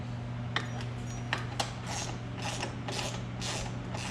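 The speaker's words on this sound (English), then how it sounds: "This is the whole video. Me ratcheting a bolt." A ratchet wrench works a yellow-Loctited bolt on a Can-Am Outlander XMR 650 lightbar mount, sounding out a run of rhythmic clicking strokes close by over a low steady hum.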